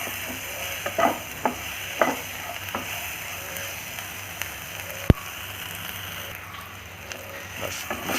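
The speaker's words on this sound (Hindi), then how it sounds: "हल्का से गरम मसाला। इसको अच्छी तरह से मिक्स कर देता हूँ।" Spices with coriander powder and garam masala being stirred in a sizzling frying pan for brinjal masala, with steady frying crackle, scraping strokes of a spoon and an occasional sharp clink.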